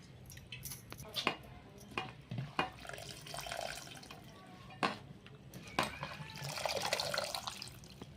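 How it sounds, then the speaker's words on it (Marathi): Fenugreek leaves are swished and squeezed by hand in a basin of water in a home kitchen, giving close, uneven splashes, drips and soft squishing bursts with no talk. "घेऊ आता आपण दुसऱ्या पाण्यात अजून भाजी धुवूया"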